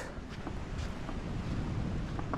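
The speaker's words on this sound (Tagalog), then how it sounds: "Malakas pa rin ang hangin hanggang ngayon, oh." Strong wind buffeting the microphone in a low continuous roar, with faint waves in the background and no voices.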